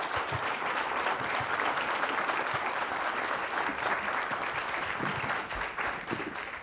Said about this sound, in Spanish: Les pido un aplauso, por favor, nuevamente a nuestro invitado.